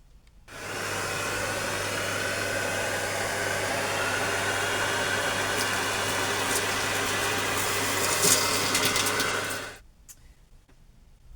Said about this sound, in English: Do you like watching things get sucked up by the vacuum cleaner?